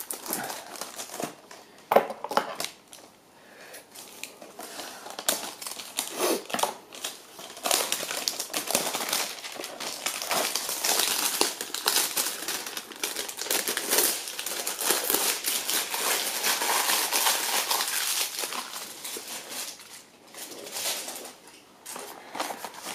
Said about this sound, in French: l'ouverture d'un booster Clash of the Blue Sky qui fait de la résistance un petit peu. Il ne veut pas s'ouvrir